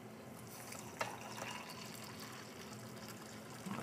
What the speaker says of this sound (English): just happen to have some freshly boiled water here